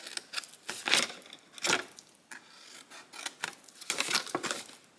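Scissors cutting the corners off scored paper squares for a Christmas craft: several crisp, quiet snips and paper rustles spaced a second or so apart, close up with no talking.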